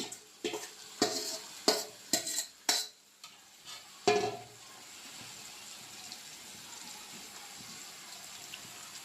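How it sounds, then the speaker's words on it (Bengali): Marinated beef dropped onto fried onions in a pot for beef biryani, a series of sharp stirring knocks and sizzling bursts in the first half, then settling into a low, steady frying hiss. "এবার এই পেঁয়াজে ম্যারিনেট করা মাংসটাকে ছেড়ে দিলাম।"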